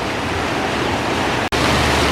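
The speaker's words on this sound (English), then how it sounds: "There they go, getting splashed on." Riders getting drenched on the Goliath Washer water ride at Six Flags Fiesta Texas, a steady loud rush of splashing water filling the whole stretch, with one abrupt brief dropout near the end.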